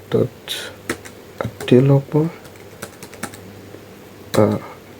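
A computer keyboard clatters as a Gmail username is entered, bursts of quick, close key clicks alternating with a person talking over them.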